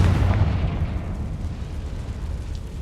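Confringo spell blast from Hogwarts Legacy: a heavy booming explosion that hits at once and slowly rumbles away into a low, fading roar.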